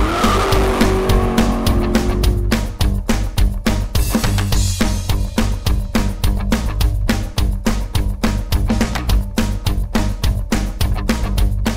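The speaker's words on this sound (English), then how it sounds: "Do your tires a favor, don't drift the car." A car drifts with squealing tires, its engine roaring close and loud in a continuous run of revs and tire screech lasting nearly twelve seconds.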